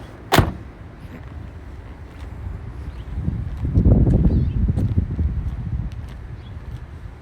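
The convertible top of a Maserati Cambiocorsa Spyder folding down outdoors, a sharp click followed by a quiet pause, then a rising mechanical whir and rustle that peaks midway and fades, close by, with no talking.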